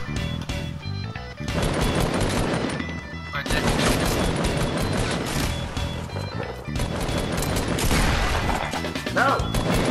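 Gunfire during a battle royale video game: loud, dense bursts of rapid shots and crashing impacts in several sustained volleys separated by brief gaps, with faint voices underneath.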